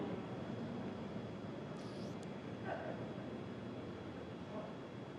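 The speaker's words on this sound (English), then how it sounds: "We heard we're throttling down the Merlin engines on the first stage." A steady, distant roar of a SpaceX rocket's first-stage Merlin engines throttling down during launch, a continuous broadband rumble with a couple of faint tonal blips.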